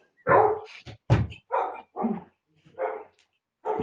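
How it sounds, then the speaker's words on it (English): A dog barks close to the microphone in a quiet indoor setting, six or seven separate loud barks with short pauses between them, alone without talk. "I'm gonna get my dog."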